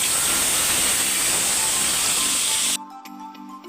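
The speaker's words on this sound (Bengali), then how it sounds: "তেল গরম হয়ে গেছে দেখো কড়াই তেল দিয়েছিলাম এবার আমি কচুগুলোকে ভেজে নিই" Taro pieces frying in hot oil in a wok give a steady, loud hiss and sizzle that cuts off abruptly near the end, leaving only faint quiet sounds.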